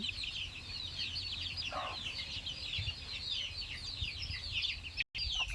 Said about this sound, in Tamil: சேவல், கோழி.